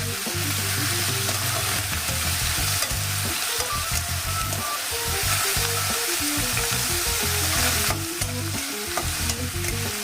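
Ginger-garlic masala cooking down with a little water in a pan for a dry fish chorchori, sizzling steadily and loudly while a spoon stirs and scrapes in irregular bursts, with a low tonal hum underneath and no talking.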